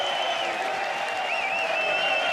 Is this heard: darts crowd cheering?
yes